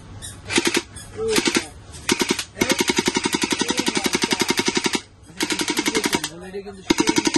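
A toy AK47 electric gel blaster fires in several rapid automatic bursts, each a loud, close, buzzing rattle of evenly spaced shots, with brief pauses and faint mechanical whirs between the bursts.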